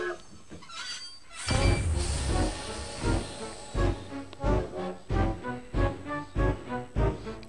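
Rhythmic chugging puffs of a toy Lionel steam train in the game 3D Ultra Lionel TrainTown Deluxe, loud and steady, repeating at an even pace after a hissy start.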